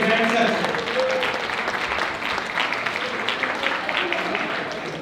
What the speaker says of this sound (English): Let's give a big round of applause to everyone who made this a grand success.